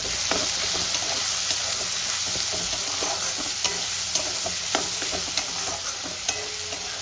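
Coriander powder, red chilli powder and cumin powder get stirred in a hot frying pan over a constant sizzle. A spoon scrapes and taps the pan in a steady, repeated rhythm close up, with no talking.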